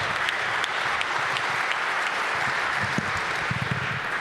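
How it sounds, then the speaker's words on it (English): Sustained audience applause filling a large arena at a Capital One sports and entertainment announcement, a dense steady wash of clapping with a few louder claps and faint cheers, no speech. "So give a big, jubilant round of applause for NBA Commissioner Adam Silver."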